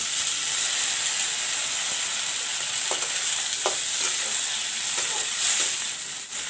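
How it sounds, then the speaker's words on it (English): Chopped tomatoes fry with golden-brown onions for Maggi noodles, a loud constant hiss of sizzling oil with a few soft stirring knocks and no voices. "Now I'll put the chopped tomatoes."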